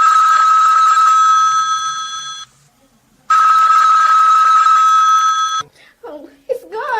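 A telephone rings in a radio drama: two long, loud, buzzing rings separated by a short silence, followed by a brief stretch of voices and other sounds.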